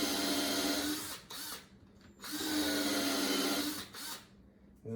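A power drill drives screws into a DIY outdoor patio chair in two sustained whirring bursts separated by short pauses, close and moderately loud, with no talk.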